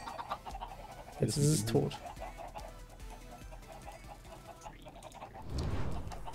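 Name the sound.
chicken clucking in video game Minecraft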